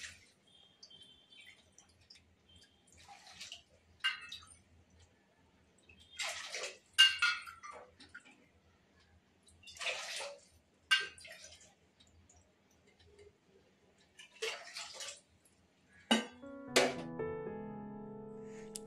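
Water poured into a pot holding sugar to make rasgulla syrup, heard as several short, quiet splashing bursts separated by silences, with a louder trickling pour near the end.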